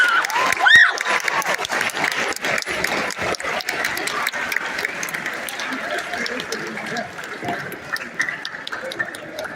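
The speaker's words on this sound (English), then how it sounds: "applause" Large crowd applauding at a keynote for a county math fair with more than 2,500 attendees, dense steady clapping that swells briefly near the start and then holds at an even level, with scattered voices and cheers mixed in.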